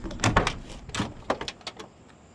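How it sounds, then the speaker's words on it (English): Long, heavy door of a 1975 Pontiac Trans Am with a 455 engine swinging open, giving several close clunks and latch clicks in a quick uneven series, with nobody speaking. "All right, doors open smooth."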